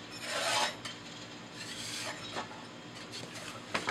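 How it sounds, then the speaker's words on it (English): A putty knife scrapes ash and residue off the fire brick of a Harman P-series pellet stove, producing repeated close, gritty rasping strokes with no talking. "I'm gonna take my little putty knife and just brush some of this easy stuff off my fire brick"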